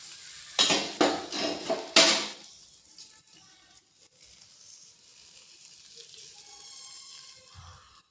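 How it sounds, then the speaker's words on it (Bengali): A spoon dips hot fried jilapi into lightly cooled sugar syrup in a pan. A few loud metallic clinks and clatters come first, followed by quiet stirring and liquid movement. "হালকা ঠান্ডা চিনি শিরার মধ্যে দিয়ে দেব।"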